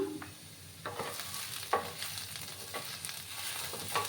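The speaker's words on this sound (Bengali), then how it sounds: "এইদিকে আমার লাউটা ভাজা হতে থাক" Bottle gourd pieces sizzle and fry in a pan, with soft scrapes of a spatula stirring them now and then.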